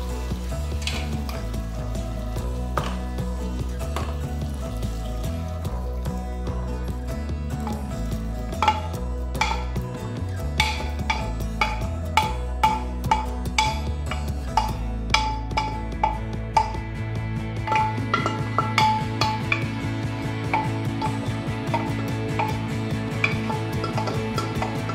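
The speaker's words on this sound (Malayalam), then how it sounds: "ഇനി നമുക്ക് വേവിച്ച് വെച്ചിരിക്കുന്ന ബീഫ് ഇതിലേക്ക് ചേർക്കാം." Cooked beef is tipped into bubbling masala and stirred, giving steady sizzling and frying with repeated clinks and scrapes of a spoon against the pan, close and clear with no talk.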